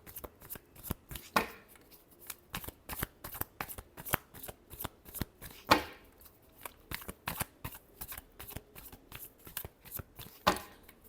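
A deck of tarot cards being shuffled up close, with rapid flicking riffles in repeated bursts and a few sharper slaps, steady and unaccompanied by talk.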